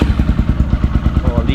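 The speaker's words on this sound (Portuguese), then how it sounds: "E vamos ligar de novo a moto aqui, ó, pra gente conferir como que ficou." A 2008 Honda Twister motorcycle engine running without throttle after its carburetor has been adjusted: a close, loud, even putter of rapid regular thumps at idle.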